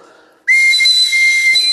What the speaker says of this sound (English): eagle bone whistle is used by the elders, usually people of prominence in the tribes